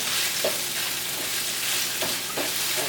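Onions frying in a pan for longaniza and nopales in salsa, a constant close sizzle with a few brief stirring clacks, no talking.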